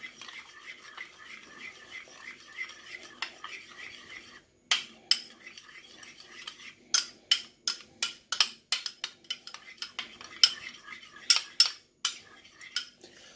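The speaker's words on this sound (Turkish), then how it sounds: "İyice akışkan hale gelene kadar çırpıyorum." Yogurt gets whisked in a bowl, the utensil scraping and clinking against the sides, a soft rapid scratching at first, then a run of sharper strokes close by.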